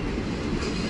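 The Rajdhani Express passenger train from Bangalore to Delhi rolls on, heard from inside as a continuous low rumble of wheels on track, fairly quiet and steady, with nobody speaking.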